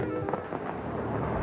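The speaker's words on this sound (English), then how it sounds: "kicking in the afterburners to cue the great Zambelli fireworks display" Zambelli fireworks display at the Fort Lauderdale Air and Sea Show, heard as dense overlapping booms and crackling bursts in a brief, loud, continuous barrage.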